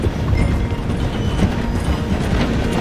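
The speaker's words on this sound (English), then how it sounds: "The train is slowing down to go through the station." A video game train slows through a station, giving a steady rumbling roll with faint clicking wheel noise, moderately loud and continuous with no talk.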